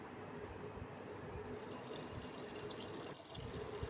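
Water pours steadily into a pressure cooker over rice, black urad dal, garlic, cumin and fenugreek, a continuous close splashing fill lasting several seconds with a brief dip near the end.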